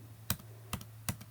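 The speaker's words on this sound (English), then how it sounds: "using my arrow keys, it's going to move this along" Three evenly spaced arrow-key presses on a computer keyboard, each a crisp, close click over a steady low electrical hum.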